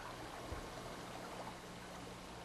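A mountain stream in bear country flows in a soft, continuous wash of running water, faint and steady with a low rumble underneath and no voices.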